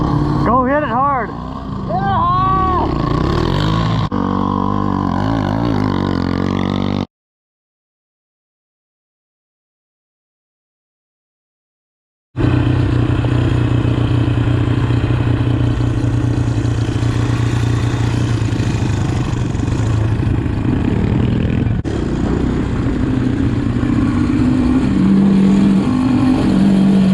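A 110cc dirt bike engine revs loudly up and down in a yard, rising and falling whines, then cuts to silence before a steady droning engine run resumes with voices talking over it.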